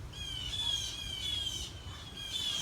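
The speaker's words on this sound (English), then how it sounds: "Fucking birds." Birds squawking outdoors in a repeated series of sharp, high-pitched calls over a steady background hiss, fairly close and with no voices.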